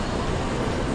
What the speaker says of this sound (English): Look how fast that train goes, guys.